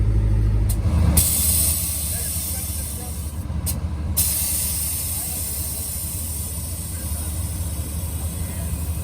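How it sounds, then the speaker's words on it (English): A dually pickup truck pulling into a classic car show in Maine gives a loud hiss of released air early on, then its engine rumbles steadily at close range with a second brief hiss midway. "probably the most beautiful truck I've seen pull into here"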